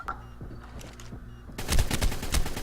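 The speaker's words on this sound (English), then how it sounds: "Get right wrecked by an assault rifle!" Rapid assault rifle gunfire in the video game ARK bursts in loud and dense after a quieter stretch, with sharp repeated shots continuing to the end.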